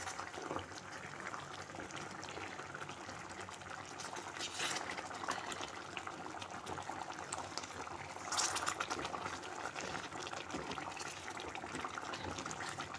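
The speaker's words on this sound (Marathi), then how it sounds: "हा एवढा छान तिला उकळ आली आहे ना" Raw mango mixture boils in a covered pot during cooking, with a steady bubbling, hissing wash that carries throughout and no talk over it.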